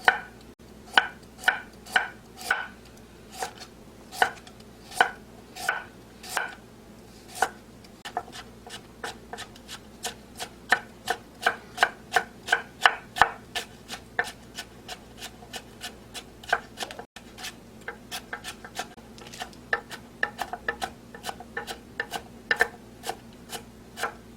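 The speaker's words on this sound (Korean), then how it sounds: "당근은 약간만 채 썰어서 쫑쫑 썰어주면 돼요" Fine, rapid knife chopping of thinly julienned carrot on a cutting board, a steady run of crisp, evenly spaced close taps continuing throughout with no talking.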